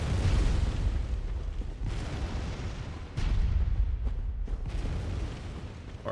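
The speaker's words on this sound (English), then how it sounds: "No other reason to be down here than to try to shoot us with the cannon" Cannon fire in the video game Bloodborne, heard as heavy, loud booming blasts that roll on continuously, with fresh sharp hits landing about two and three seconds in.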